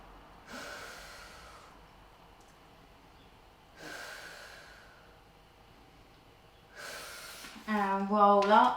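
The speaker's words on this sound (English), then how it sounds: "Just take a few deep breaths here." Slow deep breaths during a lower back stretching exercise lying on a mat, three soft airy exhales spaced a few seconds apart, close and quiet, ending in a brief wavering vocal sound.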